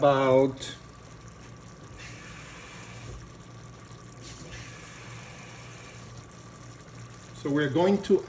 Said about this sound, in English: about a quarter cup of water to this